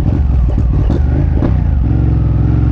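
A Ducati 959 Panigale sport motorcycle's 955cc V-twin engine revs loudly and close, with sharp throttle blips rising and falling before settling into a steady idle.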